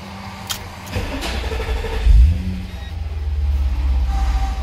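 A BMW E60 diesel engine cranks briefly, catches with a low thump and settles into a steady, loud idle rumble that builds slightly toward the end, heard up close with no talking.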